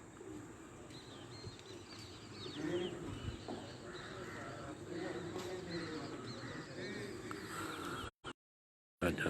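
Pigeons on a rooftop coo and flutter faintly in the distance, soft bird calls under a low background wash and nearby talk, with a brief silent gap near the end.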